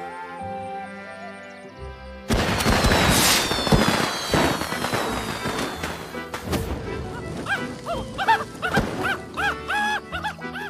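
Fireworks crackle and burst loudly and close for several seconds after a quieter musical opening, with dogs barking and yipping alongside and tonal music continuing underneath.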